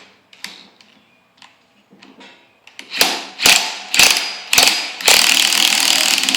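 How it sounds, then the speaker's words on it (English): Two-jaw puller being ratcheted on a rusted steering wheel of a Ford tractor, sparse faint clicks at first, then loud sharp ratchet bursts repeating about once a second, close and without talk. "What we've done now is we just got a 2-jaw puller."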